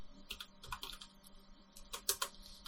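Keys clatter on a computer keyboard as vi editor commands are entered at a Bash command line, a quick run of close, crisp clicks in a few uneven bursts, with no talking.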